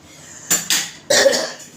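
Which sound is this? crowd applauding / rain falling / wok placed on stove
wok placed on stove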